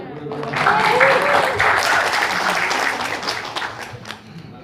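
Sustained audience applause at a university thesis defense swells quickly and holds steady for several seconds before tapering off, with voices mixed in underneath.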